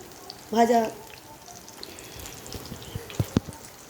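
Oat pakoras deep fry in hot oil with a steady low crackling sizzle and occasional sharp pops. A short burst of voice comes near the start.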